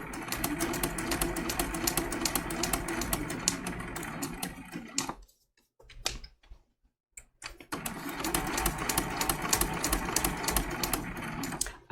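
A sewing machine stitches a snowman trivet in fast, even running bursts up close, stopping for a short quiet pause in the middle before resuming at the same steady pace.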